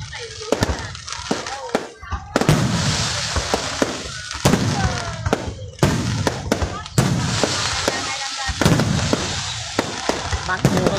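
At Ba Den Mountain in Tay Ninh, Vietnam, loud firework explosions crack in irregular bursts, some in quick rapid pops and some as single heavy blasts, with people talking nearby.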